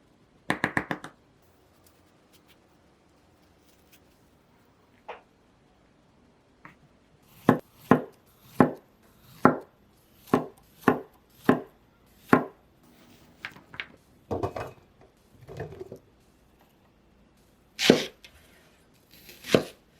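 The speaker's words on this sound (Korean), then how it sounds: "애호박은 반으로 자른 다음 가운데 씨 부분을 파줄 거예요." A knife chops through zucchini on a cutting board, first a few scattered cuts and then a quick run of about a dozen sharp, close thuds, followed by several more spaced strikes.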